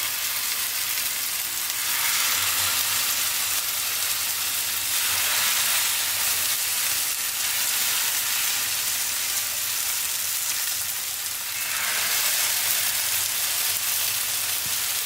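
Stuffed mini msemen, a dough-free flatbread, fry in a pan with a steady, loud sizzle that swells and eases in waves for the whole stretch, with no voices.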